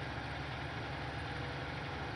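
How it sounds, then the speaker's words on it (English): A fast tractor engine in the Farming Simulator 19 video game drones steadily at a constant idle-like pitch, a dense continuous mechanical hum with no variation and no talk. "This is one of the fastest tractors."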